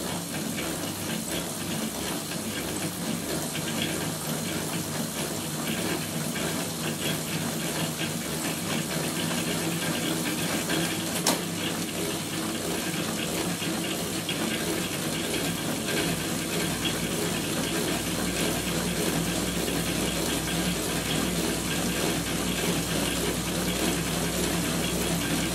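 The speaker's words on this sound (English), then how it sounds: "When we crank it up to about 200 RPMs," A DIY permanent magnet generator on a bicycle spins at about 300 RPM, making a steady broadband whirring rush that holds constant at close range for the whole stretch, with no voices.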